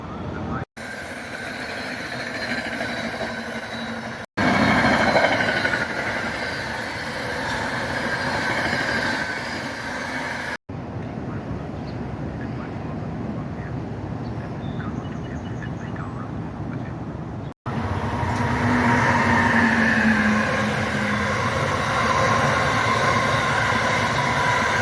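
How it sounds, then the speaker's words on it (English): Amtrak passenger train rumbling past beneath a bridge on the Raritan Valley Line, a loud sustained rolling roar with wheel noise that changes character as cars pass, broken by brief cuts. "The Amtrak just went up under that bridge right there."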